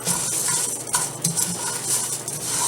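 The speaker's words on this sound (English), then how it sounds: "just keep stirring it around until the rice changes color" Rice is stirred in a pot for jook, dry grains sizzling in oil under steady scraping of a spoon against the pot, close and continuous with no speech.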